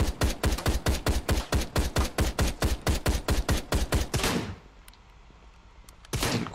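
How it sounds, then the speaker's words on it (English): Submachine gun fire in the video game Ride to Hell, a rapid, loud, evenly spaced burst of about twenty close shots, a brief quiet pause, then another shot starting at the end. "I have a submachine gun. And I'm using it for headshots."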